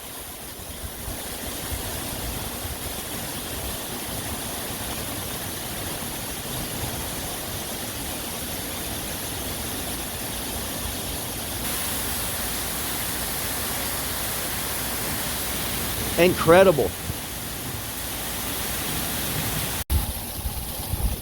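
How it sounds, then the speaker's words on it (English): Wind and rain of Tropical Storm Claudette at landfall on Dauphin Island, roaring in a backyard as a steady, loud broadband wash with a brief gust burst near the end; a single short remark is spoken. "Driving wind, driving rain."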